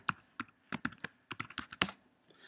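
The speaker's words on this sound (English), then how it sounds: "let me just type in my password." A password is typed on a Mac keyboard: about a dozen crisp, close key clicks in an uneven rhythm, with short pauses between bursts and quiet background.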